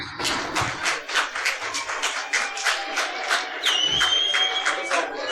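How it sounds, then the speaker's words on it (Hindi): A studio audience at a Ramzan iftar transmission in Pakistan claps for an award recipient, evenly paced clapping from a small group, moderately loud, with a brief tonal sound and faint voices partway through. "आपकी भरपूर तालियां चाहिए।"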